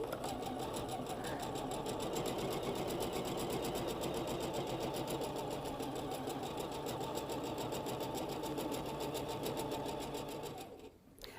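A sewing machine stitches quilt block units for a Starry Night pattern, a steady rapid mechanical whirring and needle clatter that runs continuously before slowing and stopping at the very end.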